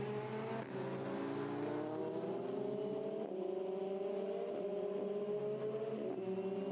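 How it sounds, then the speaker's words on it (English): Formula Renault 2.0 race cars accelerating through the mid part of the Hockenheim lap during a Northern European Cup race, a loud continuous engine drone with rising pitch sweeps and gear-change breaks as several cars pass. "So the cars in the meantime then accelerate their way through the mid part of the lap."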